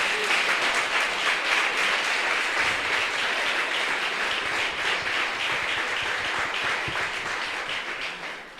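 A church congregation applauds, a dense and steady wash of clapping that carries on for several seconds and eases off slightly at the end.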